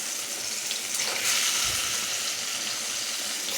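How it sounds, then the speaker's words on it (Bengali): Dhoka pieces, Bengali lentil cakes, frying in a pan, giving a steady close sizzle with a watery hiss throughout and no talking. "এটাকে আমি ভাজবো এখন।"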